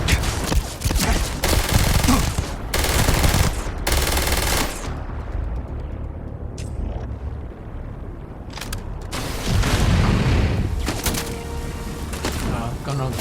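Gunfire from a gun in the video game Starfield: loud bursts of rapid automatic shots in several volleys with short pauses between, a voice speaking in places.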